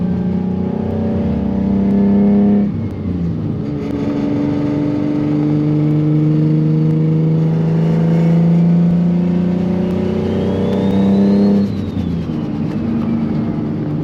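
A turbocharged Nissan 350Z drives at night, its engine droning and rising through a pull with clear harmonic tones, briefly dipping as gears change, loud and close from inside the car with no talk.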